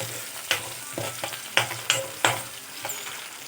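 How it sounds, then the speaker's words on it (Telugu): Peas and potatoes frying in a pan for Alu Batani curry, a steady sizzle broken by several sharp scraping stirs of a spatula at irregular intervals, close and fairly loud, with no talking. "బాగా వేగితే బాగుంటుందండి, చాలా బాగుంటుంది బఠానీ"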